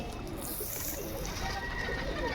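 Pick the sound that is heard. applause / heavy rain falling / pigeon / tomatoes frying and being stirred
pigeon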